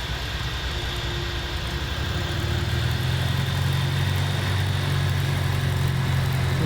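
A light aircraft engine idles at about 1,000 RPM during a pre-flight engine check, a constant low drone with a faint mechanical hum, close and unbroken, slightly louder toward the end.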